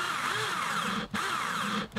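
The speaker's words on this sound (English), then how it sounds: "just drill the hole using the recommended drill bit for the size of jack plug socket you'll be fitting" A power drill boring a jack socket hole into the body of an acoustic guitar, giving a steady whirring grind for two seconds with two brief dips as the bit bites, close and moderately quiet.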